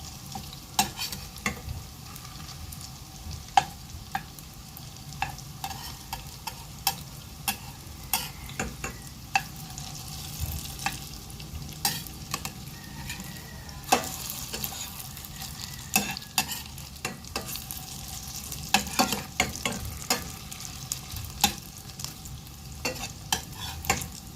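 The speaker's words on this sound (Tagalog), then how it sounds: "at i-fry lang natin yung mga meatball." Pork meatballs fry in a pan with a dense, continuous crackling sizzle, peppered with sharp pops and spatters throughout, heard up close with no voices.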